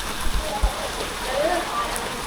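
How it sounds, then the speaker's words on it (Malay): Rain falling outdoors, a steady hiss of drops on surfaces with a couple of low thumps near the start, heard close with no talk. "Hujan."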